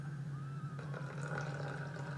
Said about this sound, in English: So now I'm going to add more water in.